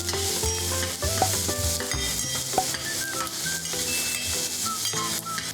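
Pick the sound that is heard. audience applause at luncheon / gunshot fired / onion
onion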